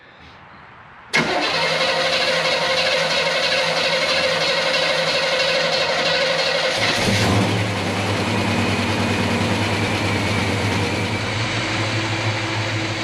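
Chevelle V8 engine with a newly fitted transmission bursting into life with a sharp crank, then running loud and steady before settling into a lower, rumbling idle.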